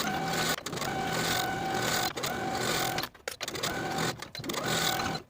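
Sewing machine stitching the center back seam of a women's suit jacket, a steady close motor whir broken by a few brief pauses as the stitching stops and restarts.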